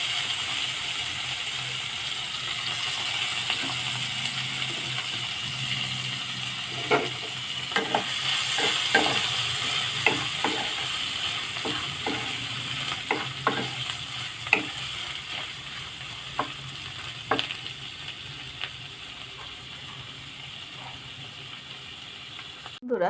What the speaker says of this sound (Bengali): বেশ লাল লাল করে মাছটা ভেজে নিতে হবে বন্ধুরা